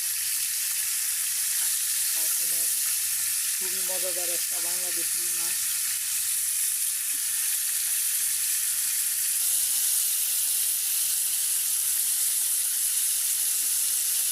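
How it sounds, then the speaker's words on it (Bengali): Pieces of carp fry in oil on a tawa, producing a steady, bright, close sizzle that fills the whole stretch, with a voice speaking briefly near the start. "তারপরে মাছগুলোকে একটু তাওয়ার উপরে দিয়ে দিলাম ভাজার জন্য। দেখুন বন্ধুরা কত সুন্দরভাবে ভাজা হয়ে যাচ্ছে।"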